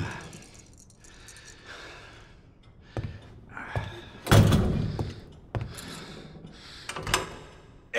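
A door in Resident Evil 2 Remake bangs and slides open with a heavy thud midway, among scattered scrapes, thumps and breathy gasps, fairly close and with no talking.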